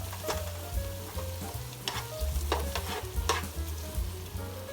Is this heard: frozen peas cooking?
yes